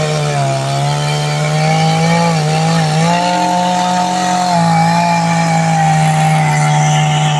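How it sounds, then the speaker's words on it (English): A dull chainsaw whines steadily at high revs, cutting into a large white oak with a loud, continuous buzz that dips slightly in pitch as it bites. "And a dull chainsaw."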